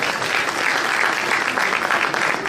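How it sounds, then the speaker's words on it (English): An audience at an Edmonton press council ceremony claps steadily, dense continuous applause from many hands, fairly loud and with no talk over it. "So I'd like to please offer you a round of applause."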